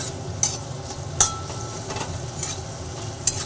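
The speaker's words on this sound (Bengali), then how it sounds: "এরপর একটু ভালোভাবে নাড়াচাড়া করে নিচ্ছি" Soft stirring and scraping of onions and tomatoes in a frying pan over a low sizzle, with a few sharp clinks of a utensil against the metal.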